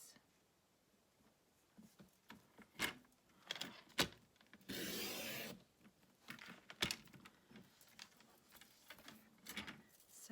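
Cardstock piece for a gift box being cut, with sharp clicks and taps from a trimmer and a brief sustained slicing stroke in the middle, close and quiet in a still room.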